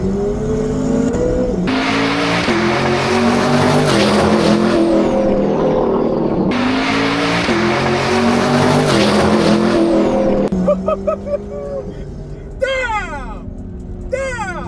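Two modded Corvettes, a C8 ZR1 and a 1000HP C8 Stingray, racing side by side at full throttle, loud rising engine roars through gear changes with shifts, then fading with tire squeal and excited voices at the end.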